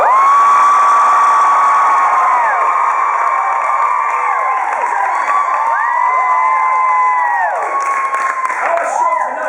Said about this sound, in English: I want you to applaud me in